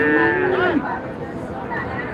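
A single drawn-out bovine moo sounds close by at Manapparai cattle market in Tiruchirappalli district, where small calves are kept. It fades into a low murmur of market background noise.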